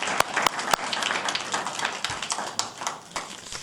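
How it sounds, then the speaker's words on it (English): Audience applause for the candidates at a 2016 Meet the Candidates forum in Windsor, Connecticut, a steady mass of clapping with a few sharp nearby claps standing out, continuing at an even level throughout. "Let's give our candidates a round of applause."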